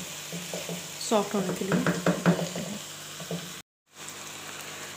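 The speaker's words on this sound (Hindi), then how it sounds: "और हम इसको पकाएंगे जब तक हमारे पास टमाटर सॉफ्ट ना हो जाए" Tomatoes frying in a pan with mixed vegetables and chicken sizzle softly while a spoon stirs and scrapes, under a person talking, before a brief moment of silence.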